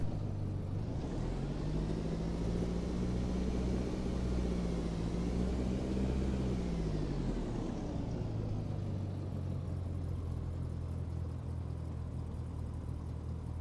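Aircraft engine in the X-Plane 12 flight simulator, taxiing on a Utah bush-flying strip: a steady droning hum with a low tonal pitch that rises, holds, then drops back as power eases, continuous and close, with no talk.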